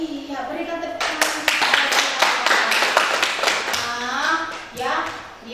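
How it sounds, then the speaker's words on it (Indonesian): A group of students claps in a classroom counseling session, giving a short burst of loud, dense applause in the middle, with a voice speaking before and after it. "berikan tepuk tangan"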